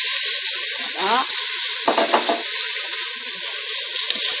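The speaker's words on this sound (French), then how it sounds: "Et je vais rajouter maintenant 2 oignons que j'ai hachés finement." Finely chopped onions hitting hot oil with spices for an Indian egg curry, bursting into a loud, steady sizzle with brief bursts of stirring scrapes.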